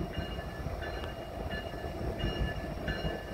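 Norfolk Southern train 153 with an SD70ACE locomotive leading arrives at Greenville station, a low continuous rumble of rolling cars with faint repeated squeals or clanks, at moderate distance and without speech.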